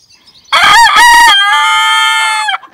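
A chicken crows close and loud in a single long cock-a-doodle-doo with a broken first part and a sustained wavering finish, heard alone on the Steg–Hörnli hiking trail near Fischenthal.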